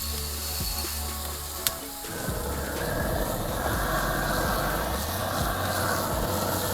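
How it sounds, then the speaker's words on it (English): A handheld cooking torch sears a steak bone, a steady roaring hiss that starts after a couple of seconds and runs on evenly and close, with faint sizzling beneath. "So our trusty torch comes back into play."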